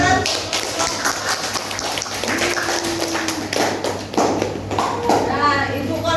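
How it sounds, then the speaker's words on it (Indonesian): Scattered claps and taps from students in a classroom, irregular and moderately loud, with children's voices and chatter underneath. "Berarti beri tepuk tangan."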